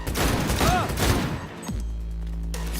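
Gunfire from the Cyberpunk 2077 video game: a quick cluster of loud overlapping shots and impacts over game music, fading into a low sustained drone.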